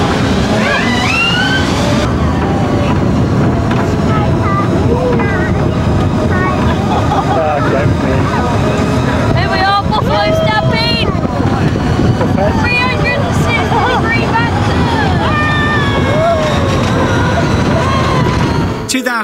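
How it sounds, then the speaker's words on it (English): On-ride recording of the Buffalo Stampede amusement park ride at the American Adventure theme park, a loud continuous rush of wind and rumbling motion with scattered rattles and faint screams or voices throughout. "we're about to go with some on-ride footage"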